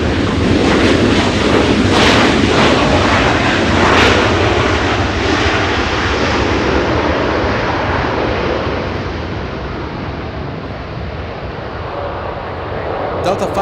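A Delta jet roars loudly at Los Angeles International Airport, a broad steady engine rush that slowly fades over several seconds, with a faint voice mixed in.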